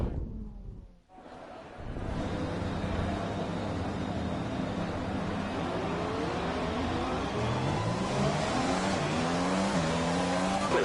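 F1 car in the F1 2020 game at the Abu Dhabi Grand Prix start: after a brief dip near silence, a loud, sustained engine roar holds steady with rising gear-change sweeps, close and alone.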